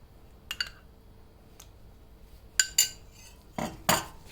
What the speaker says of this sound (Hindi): इसको अच्छे से मिक्स करते हैं